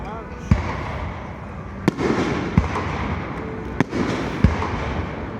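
Memorial Day fireworks burst over Lake Lanier at Margaritaville, Georgia, with about six sharp booms at irregular intervals. The blasts ring out above a steady bed of crowd murmur and ambient noise.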